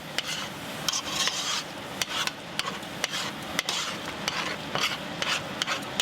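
French onion soup stirred in a pan, continuous scraping and rubbing with sharp clicks of the spoon against the metal over a faint sizzle, close and steady with no talk.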